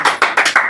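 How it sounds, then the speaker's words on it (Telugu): A church congregation claps loudly in rhythm, four strong bursts of applause in quick succession, close and full. "గట్టిగా చప్పట్లు కూడా దేవునామని మహిమపరచాలి"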